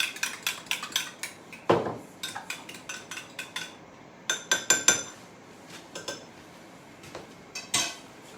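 Seasoned eggs being whisked in a dish with a utensil, producing a series of sharp clinks and scrapes in irregular bursts, close and fairly loud with quiet gaps between.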